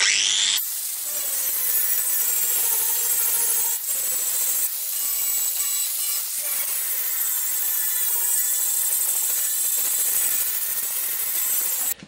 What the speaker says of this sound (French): Une fois la soudure effectuée, faut meuler un petit peu les débordements